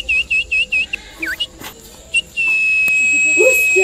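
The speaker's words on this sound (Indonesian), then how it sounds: "Jangan siul malam-malam" A person whistles at night: a string of short, clear, repeated whistle notes, then one long sustained tone, close and fairly loud over faint background noise, with a brief voice near the end.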